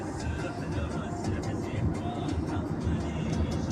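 Ambience at Doha International Airport is a steady, loud, dense rumble of traffic or engines with a continuous roar and a blurred murmur of activity that does not let up.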